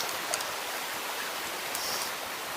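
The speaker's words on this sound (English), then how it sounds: "it's a nice little creek here" A small creek, Corbin Creek, runs steadily along a hiking loop in Shenandoah, its broadband water rush continuous and fairly close, with no voices over it.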